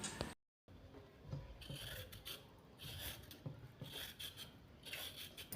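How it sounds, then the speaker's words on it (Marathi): Carrots being peeled by hand for a traditional carrot halwa, a steady run of close, dry rasping scrapes repeating through the whole stretch after a brief gap at the start, with no talk. "आता या याच्या आपल्याला साली काढून घ्यायच्या आहेत"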